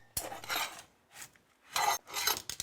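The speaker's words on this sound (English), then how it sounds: "Let's tear this carpet up, take this baseboard off, and start the floor." Carpet is torn up from a floor during a remodel before vinyl plank installation, producing loud rasping rips in three or four bursts separated by short pauses.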